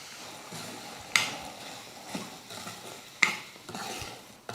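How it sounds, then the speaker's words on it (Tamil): Semolina (rava) roasting in a pan after cashews and raisins, with a soft dry sizzle and a spoon stirring and scraping the pan, two sharper clinks standing out. "அந்த ரவையை சேர்த்து வறுத்துக்கலாம்."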